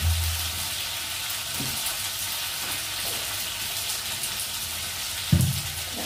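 Food frying in a pan before spices are added, a steady loud sizzle with occasional stirring scrapes and a sharper clatter near the end.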